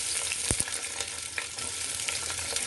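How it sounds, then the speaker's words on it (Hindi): Chopped onion and whole spices fry in a pressure cooker for chana dal pulao. The steady sizzle runs throughout, with a couple of sharp clinks near the start and no talk. "इसमें हम सबसे पहले ये अपने खड़े मसाले सभी को ऐड कर देंगे, साथ ही इसमें हम अपने ये चॉप्ड जो हमारी ओनियन है इसको डालेंगे।"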